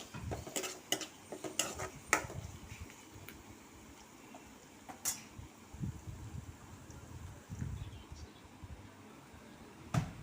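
Three cloves of crushed garlic stirred in a cooking pan for a prawn and greens stir-fry, quiet sizzle under repeated light clinks and scrapes of a spoon against metal, no voices.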